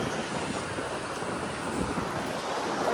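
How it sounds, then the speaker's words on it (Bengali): Sea waves wash steadily onto the beach at Mandarmani, a continuous loud roar of surf mixed with wind buffeting the microphone, with no voices. "দেখো ঢেউটা দেখো।"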